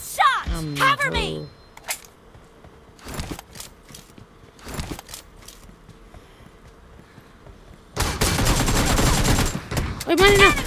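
Gunfire in the mobile battle royale game PUBG Mobile, with sharp shots and bursts of rapid fire scattered through the clip and a dense loud volley near the end, mixed with excited voices.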